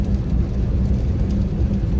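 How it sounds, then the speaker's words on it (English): Steady rain falls outside on a cold Chicago day, a dense, even hiss with a low rumbling undertone throughout, no voices. "It's raining."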